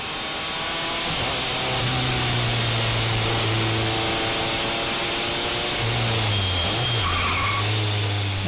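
A race car slides sideways through a hairpin, tires squealing in long steady tones over the loud in-car roar of the engine, the pitch dipping and rising as the driver works the throttle.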